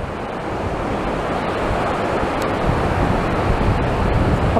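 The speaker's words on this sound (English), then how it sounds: "As the tide is coming in," Incoming tide waves washing ashore near South Pier in Blackpool, a steady loud roar of surf with heavy wind buffeting the microphone throughout, no voices.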